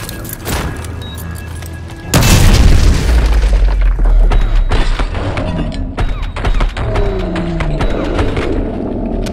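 A loud breaching explosion in Modern Warfare 2 Remastered erupts about two seconds in with a deep boom, then rumbles and rings out under scattered gameplay thuds and clatter.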